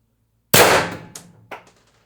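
A single sharp shot from a Pistelle X-68 HPA airsoft rifle fitted with a Reaper suppressor and .686 barrel at 1100 psi: a crisp close crack followed by a couple of quick fading clatters.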